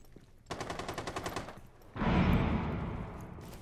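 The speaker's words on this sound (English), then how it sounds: "they're throwing down some heavy fire over here" Heavy automatic gunfire in Rainbow Six Siege: a rapid burst of close shots, then a louder, denser roar of sustained fire that carries on to the end with no talk.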